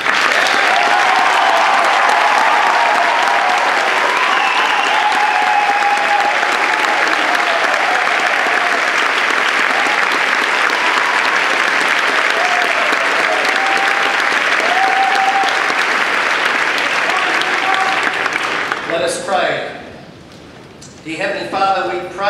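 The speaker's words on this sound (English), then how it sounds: "receive the thanks with applause from everybody here" Audience at a celebration service applauding the Year 13 class, loud sustained clapping that fills the room and then fades near the end as a voice begins speaking.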